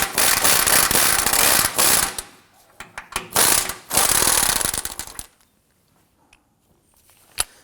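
Close, loud ratcheting clicks come in rapid bursts as a nut is removed from a front lower control arm on a 2003–2014 Volvo XC90, followed by near silence and one last sharp click.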